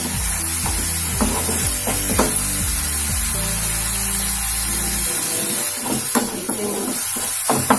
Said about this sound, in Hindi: पूरा पूरी सीझीगला टमाटो।